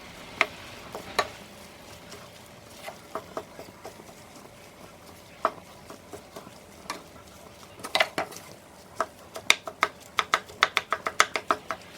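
Vegetables cooking together in a pot on low heat for homemade dog food, a soft low bubbling under a string of sharp spoon and pot clinks that grow more frequent toward the end, close by, with no talk.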